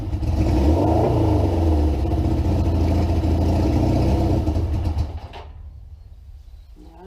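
A Suzuki GS550 motorcycle engine with a fault draining its revs runs loud and steady, revving in a rough drone for about five seconds before cutting off abruptly into quiet.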